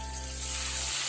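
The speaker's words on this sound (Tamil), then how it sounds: "இப்ப எண்ணெய் நல்லா சூடான பிறகு நம்ம காய வச்சிருக்க இந்த பொட்டேட்டோவை போட்டுக்கலாம்" Potato pieces sizzle steadily in hot oil on a stove, a bright, dense frying hiss that holds throughout, with a low background hum dropping away near the end.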